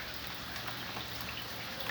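Rain pours steadily during a thunderstorm in Jeddah, Saudi Arabia, a dense continuous patter of drops on surfaces close by, with no talking.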